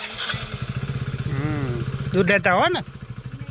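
A motorbike engine idles with a steady low chugging throughout, close by, while people talk over it and a brief rising rev or voiced sound near the end.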